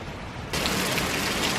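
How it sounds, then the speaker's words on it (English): Steady rain pours down with gutters overflowing, a dense, loud wash of water that suddenly swells brighter halfway through, with no voices. "Just a bit rainy today. The gutters are overflowing, Nick."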